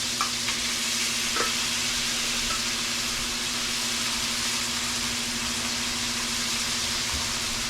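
Marinated deer backstrap stir-fries in a hot pan with a steady, even sizzle and a low background hum, a few faint clinks over it, and no one speaking.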